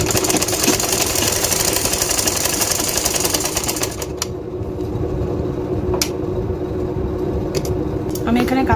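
A sewing machine stitches a lehenga blouse, running as a steady mechanical whirr with rapid needle chatter that continues throughout, easing slightly partway before carrying on.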